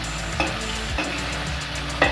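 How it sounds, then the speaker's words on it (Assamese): Tomatoes fry in a pan for a traditional Assamese fish curry, giving a steady close sizzle broken by a few scraping stirs of the spoon. "এতিয়া ইয়াত বিলাহীখিনি দি দিম। বিলাহীখিনি একদম ভালকৈ ভাজি ল'ব লাগিব"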